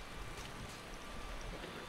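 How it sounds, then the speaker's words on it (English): Steady, dense rain hiss from a Skyrim-style fantasy game world, a continuous even wash of falling rain at moderate loudness with no voices over it. "Still raining out."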